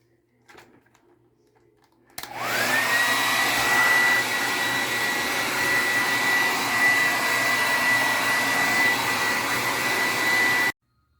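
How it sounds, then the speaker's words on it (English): After a brief rustle, a blow dryer switches on and roars steadily with a thin whine for about eight seconds, drying a Shark vacuum's sponge filter, then cuts off abruptly. "you could just use this blow dryer and dry it down"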